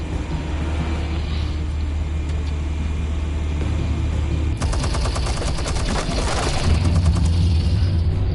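Rapid bursts of gunfire erupt midway through a Batman video game scene, a dense rattling volley over a steady low rumble that grows heavier toward the end, with no talking.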